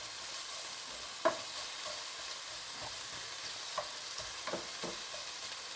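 Chopped onions and garlic sizzle steadily in a hot pan, broken by scattered clicks and scrapes of a utensil stirring them, close and fairly quiet with no talking.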